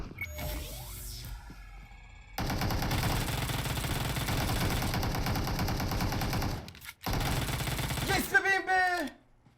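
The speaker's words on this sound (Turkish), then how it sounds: "Sessizce ilişip sinsice Uzi ile vuracağım onu" Uzi submachine gun fire in PUBG Mobile, a long continuous rattling burst that cuts out briefly, resumes and ends in a few clattering mechanical clicks, loud and close.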